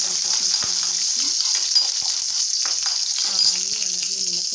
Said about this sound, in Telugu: అదే మూకుట్లో కొంచెం ఆయిల్ ఉంది కదా, దానిలో ఒక పోపు అయితే వేసేస్తున్నాను